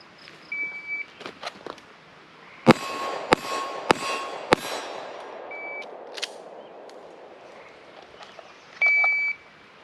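A shot timer buzzer for a serpentine shooting drill sounds as a short electronic beep near the start, followed by several sharp gunshots in an uneven string and then a louder, sustained beep near the end, with no speech.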